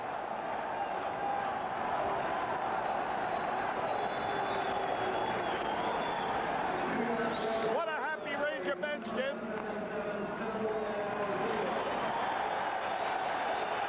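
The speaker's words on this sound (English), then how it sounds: "More cheers and boos in that crowd." Crowd at a 1979 New York Rangers at Montreal Canadiens NHL hockey game in the arena, a steady broad roar of cheering mixed with boos, continuous throughout under a commentator's voice.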